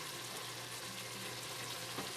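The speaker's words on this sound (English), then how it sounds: "fry it for a couple of minutes until the liquid reduces and started to smell good" Cambodian kroeung paste frying in a pan, a steady close sizzle with a faint crackle running evenly throughout, no voices.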